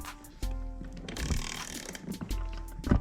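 A puller is tightened on the crank of a CR85 motorcycle engine, giving close metallic ratcheting clicks and grinding scrapes over a few seconds.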